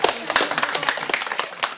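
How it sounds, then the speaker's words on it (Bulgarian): Audience clapping at an outdoor poetry-and-guitar recital by a waterfall sanctuary near Arda, a dense steady patter of many hands with no voice over it. "Аплодисменти за вас!"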